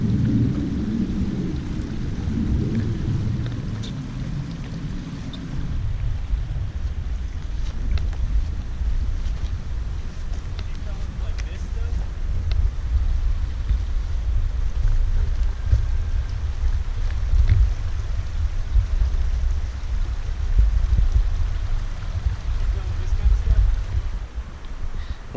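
A snowmelt creek on the Mt Whitney trail rushes loud and steady as hikers wade across it, a broad roar with wind buffeting the microphone and low rumbles early on.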